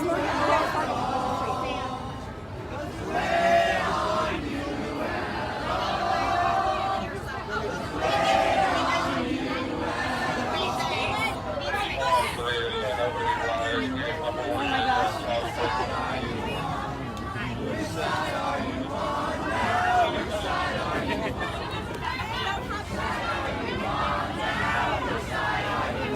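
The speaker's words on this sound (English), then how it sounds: "Wow, look at this crowd in front of BlackRock" A crowd of protesters gathered in front of the BlackRock offices fills the air with continuous chanting and shouting, a dense rhythmic wall of voices with occasional louder cries rising out of the babble.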